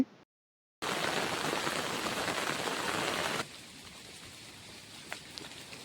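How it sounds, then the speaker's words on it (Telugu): Light rain falls on a farm field of cotton and guava plants during flooding, a dense, even hiss that drops to a softer patter partway through, with a few scattered drops standing out. "వర్షం అయితే ఒక మాదిరిగా అయితే తగ్గింది చినుకులు అనేవి పడుతున్నాయండి"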